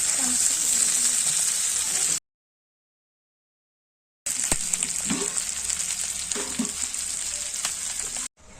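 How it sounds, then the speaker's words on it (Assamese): Spices fry in a pan for mutton curry, a bright steady sizzle heard close, broken by a stretch of silence before it resumes with light stirring sounds. "মছলাখিনি আগত গোটেই ভাজি লৈছে।"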